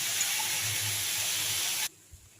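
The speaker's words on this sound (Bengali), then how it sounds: "বেগুনগুলো দিয়ে আমি ভেজে দেবো।" Eggplant frying with fenugreek greens in a pan: a steady, fairly quiet sizzling hiss that stops abruptly near the end, leaving near silence with a faint clink.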